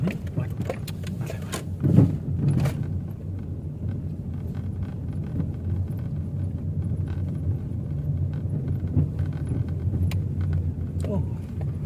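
A steady low rumble of a car being driven along roads in Kosum Phisai, Maha Sarakham, Thailand, heard from inside the cabin with scattered clicks and a brief thump, a voice occasionally present over the drone.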